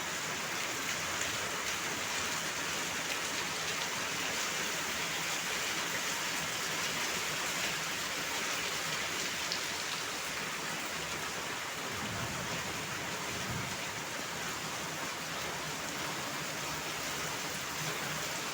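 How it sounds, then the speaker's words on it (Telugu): Heavy rain pours steadily on the grounds of an abandoned MR college building, a dense continuous hiss of drops hitting surfaces that holds even and loud throughout, with no talk. "వర్షం ఎంతైతే గట్టిగా పడుతుందో"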